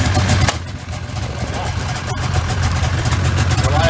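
A snowmobile engine fired up on a jack stand to show its CVT, idling and revving in a steady mid-pitched drone, close and loud, with someone talking over it.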